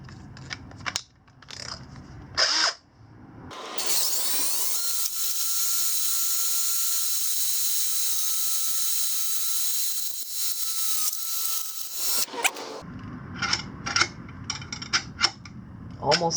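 A drill bit grinds through metal for rear axle sliders on a KLX140 mini supermoto, one long, loud, high-pitched whine lasting several seconds, with scraping and clanking before and after.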